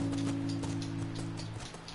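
Horse hooves clip-clop in a steady rhythm while riding in The Last of Us Remastered, a game soundtrack, with sustained low tones droning beneath the footfalls.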